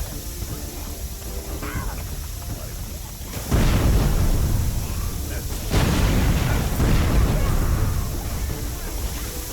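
Explosions in the video game Overlord land as two heavy booms a couple of seconds apart, each bursting into a loud, rumbling roar, with a person talking over the game sound.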